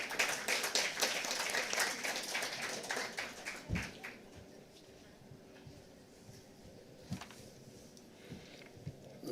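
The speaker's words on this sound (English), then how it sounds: "A huge round of applause, ladies and gentlemen." An audience at an energy-access forum claps for a minister's opening remarks, brisk at first, then thinning into scattered claps and taps amid faint room noise.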